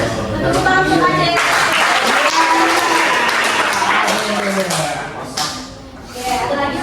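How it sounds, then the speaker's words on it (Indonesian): Classroom applause from a group of students, a steady dense clatter of clapping lasting several seconds, thinning briefly near the end before picking up again. "Tepuk tangan untuk Adi."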